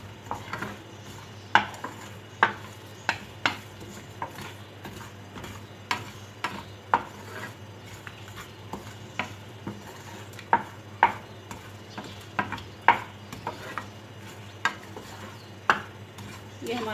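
Spices and gram flour stirred in a pan for Bihari keema masala: a spatula taps and scrapes the pan in a loose, irregular rhythm of sharp clicks over a low hum, with no one talking.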